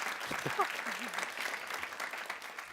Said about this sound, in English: But a round of applause, Brian.